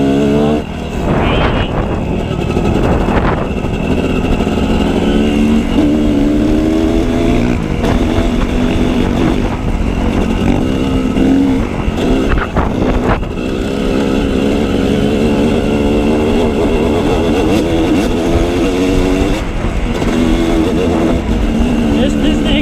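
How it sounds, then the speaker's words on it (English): A dirt motorcycle revs hard while lifting into a wheelie on a hill, its loud engine whining and surging continuously up close, with people talking and shouting over it. "let's see if we get a little wheelie going on right here"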